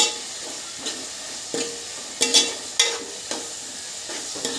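Village-style fish curry being stirred in a sizzling pan after turmeric and salt go in: a run of about eight sharp spoon scrapes at a regular pace over a soft, continuous frying hiss.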